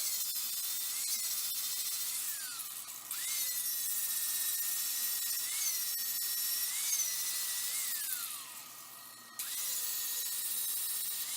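A power grinder smooths welds on a steel frame for a DIY boomless ATV sprayer, a high whining buzz that rises and falls in pitch as it bites into the metal, steady and fairly close, pausing briefly twice.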